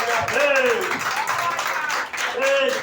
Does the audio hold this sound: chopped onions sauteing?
no